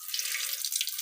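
Water runs steadily from a tap in a school washroom with a constant bright splashing rush, close and continuous with no talking.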